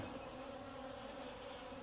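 Bees at a backyard hive that has swarmed and holds drone cells, with a dense, steady buzz up close filling the whole moment without pause.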